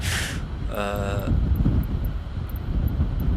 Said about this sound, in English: I can hardly hear anything other than that plane